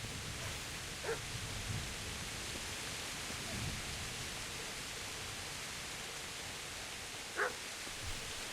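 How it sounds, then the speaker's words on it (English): Distant barks from a dog in the medieval game Kingdom Come: Deliverance come in two short bursts several seconds apart, faint beneath a constant wash of ambient noise. "I hear a dog"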